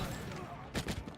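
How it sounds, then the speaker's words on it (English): A sniper rifle shot in the Halo video game lands as a brief, sharp crack late in a short moment of match noise, with a second echoing burst just after it. "That was a sniper."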